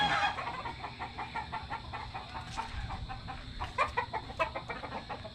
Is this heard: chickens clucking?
yes